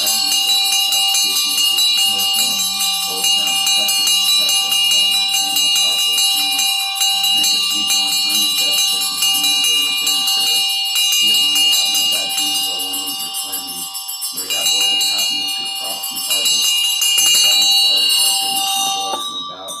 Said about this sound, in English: why do you ring your bell?